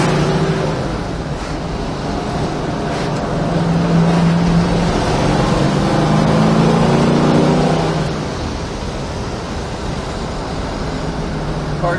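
A 1967 Chevrolet Chevelle SS big block cruising down a road, its engine a steady low rumble with a slight rise in pitch and loudness midway, then easing back, alongside road and wind noise.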